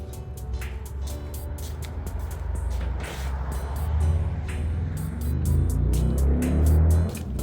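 A Toyota AE71 with a swapped 2JZ engine and individual throttle bodies idles and revs nearby, its engine note rising and swelling steadily toward the end, amid intermittent clicking.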